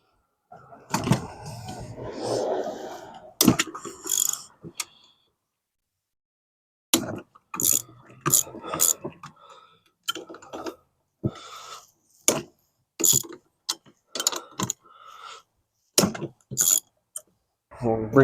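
Socket ratchet breaking loose the cylinder head bolts on a Predator-type 236cc small engine, with a racer block: a series of sharp, close clicking bursts separated by short pauses.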